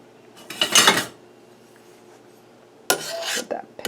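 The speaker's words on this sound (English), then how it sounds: "And now I'm going to stir it all together" Fresh vegetable salsa with green peppers, yellow peppers and jalapeños is stirred in a pot with a utensil, giving two bursts of scraping, clinking strokes separated by a quiet pause.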